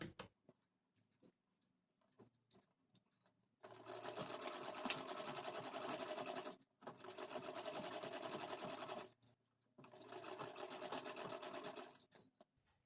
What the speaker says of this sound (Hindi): इसी निशान पे बिल्कुल मैं इस पे सिलाई करना स्टार्ट करूँगी